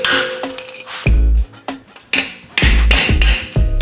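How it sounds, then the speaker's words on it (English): Hammer repeatedly striking a big chisel to drive out a control arm bushing on a Jeep Cherokee XJ, several loud, sharp metallic clanks in an irregular rhythm, close by and alone. "use a big chisel like this, and then use a hammer and then work it from each side"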